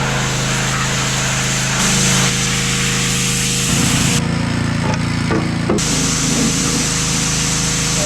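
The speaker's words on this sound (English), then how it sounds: "I'm gonna go ahead and hook my pressure washer up, and we're going to go ahead and blast these things off" A pressure washer blasts carpet glue and gunk off bass boat seats, a loud, steady hiss and spray whose tone shifts several times as the nozzle moves across the surface, with an engine hum underneath.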